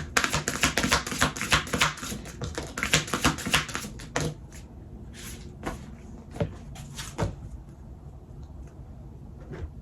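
Oracle cards shuffled by hand up close, a rapid flurry of crisp papery clicks for about four seconds, then settling into a few isolated taps and riffles.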